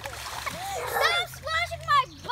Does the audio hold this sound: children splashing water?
yes